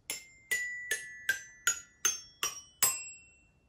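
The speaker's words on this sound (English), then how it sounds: "Notice how the sound changes when I hit the different metal strips." A child's xylophone with metal strips struck one after another, eight bright ringing notes at a steady pace, each with a clear pitched tone that shifts from strip to strip, fairly quiet and alone.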